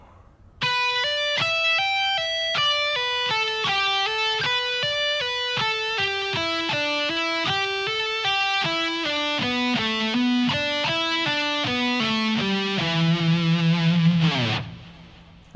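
A distorted electric guitar plays a descending pentatonic sequence using pull-offs, a steady stream of clear notes falling in pitch, ending on a held low note that cuts off abruptly, loud and close with no voices.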